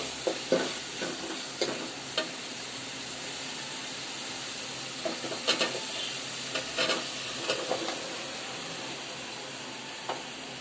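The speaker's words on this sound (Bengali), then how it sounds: "এটা দেখেন মোটামুটি কষানোর শেষ পর্যায়ে।" Prawns and spices sautéing in a pan near the end of a long braise before bottle gourd goes in, giving a steady soft sizzle broken by scattered scraping stirs and clinks, with no voices.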